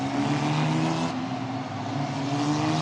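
Formula Regional European Championship race cars sweep around the Lesmo corner at Monza, a loud sustained engine whine with shifting pitch as the cars pass through, with no commentary over it.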